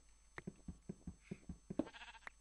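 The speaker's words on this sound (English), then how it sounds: "Sheep, I'm talking, shut up!" Sheep in Minecraft bleat repeatedly, a string of short, evenly spaced calls close by, fairly quiet, with no talking over them.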